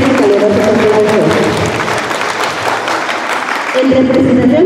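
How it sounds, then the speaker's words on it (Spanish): Sustained applause fills a preschool graduation ceremony, dense and steady clapping from an audience, with voices and tonal sounds running over it for the whole stretch. "para que pedimos fuertes y calurosos aplausos"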